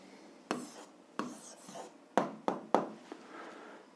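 Handwriting an answer during an algebra lesson, a few distinct scratchy pen or chalk strokes in short bursts, close and soft with a quiet room behind them.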